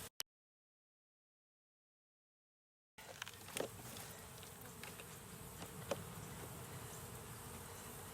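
A swarm of worker bees being hived outdoors, a steady dense buzzing drone that fills the air after a silent opening, with a few louder passes of individual bees close by.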